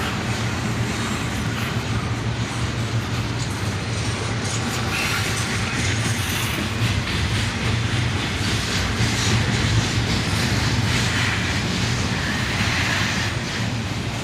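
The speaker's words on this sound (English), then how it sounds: "A big intermodal train heading north, led by an ES44 ACH and an ES40 DC." A long northbound CSX intermodal freight train, led by an ES44AC and an ES40DC locomotive, rolls past in a loud, steady rumble with continuous wheel and wagon clatter and no talking.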